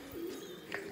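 Pigeons coo softly in a loft, two short low warbling calls rising and falling within a second, faint and close with no talking.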